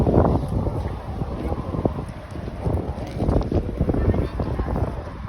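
Gusty, cool wind at a high lookout in Barcelona rumbles steadily against the microphone, with low buffeting swells throughout; voices may be faintly present underneath.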